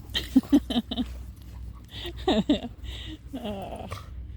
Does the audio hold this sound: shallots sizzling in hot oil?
no